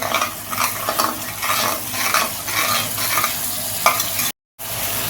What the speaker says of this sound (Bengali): এরপরে আমি হাফ চামচ মতন চিনি দিয়ে দিলাম দিয়ে নেড়ে দিই